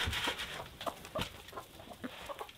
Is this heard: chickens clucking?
yes